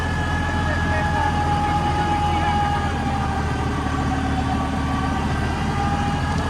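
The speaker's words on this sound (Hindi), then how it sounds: "ट्रैक्टर नॉर्मल चल रहा है, इंजन की तो बिल्कुल भी साउंड ऐसी आ रही है, बिल्कुल नॉर्मल" A New Holland 5620 CRDI tractor runs steadily with a rotavator working soil, a loud continuous engine drone with a constant mechanical hum throughout, and someone talks over it.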